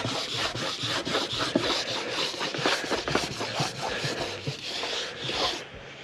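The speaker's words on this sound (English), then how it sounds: "you can rub on, and that just kind of just polishes up the base a bit more" Wax being rubbed and polished onto a snowboard base, a steady, close scraping and rasping stroke repeated in a quick back-and-forth rhythm, fairly quiet and with no talk.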